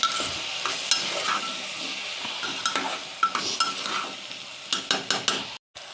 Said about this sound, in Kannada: ಈರುಳ್ಳಿ ಹಾಕಿದ ಮೇಲೆ ಚೆನ್ನಾಗಿ ಮಿಕ್ಸ್ ಮಾಡ್ಕೊಳ್ಳೋಣ